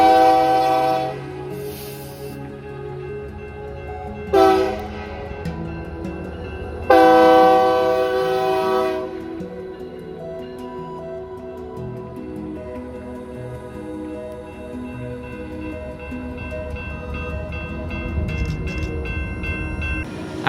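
A single BNSF locomotive running long hood forward on the Fort Scott subdivision near a steel mill blows loud, sustained horn blasts close by. The blasts are separated by gaps, and engine rumble and passing rail noise continue throughout.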